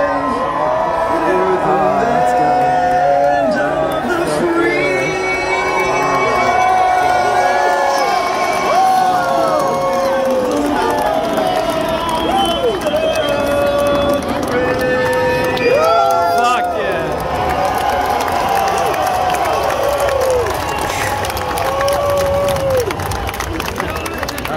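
A huge Indianapolis 500 crowd cheers and shouts as the race cars arrive, a loud, sustained roar with whoops and a speaking voice close by.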